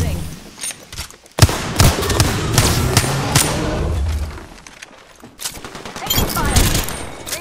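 Gunfire in the video game Valkyrie comes as repeated dense volleys of loud shots, close and continuous, with short pauses and impacts between bursts and voices over the combat.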